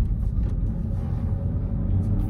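A manual 2023 Toyota Supra with a downpipe and stock exhaust idles quietly in comfort mode, giving a low, steady rumble with no voices.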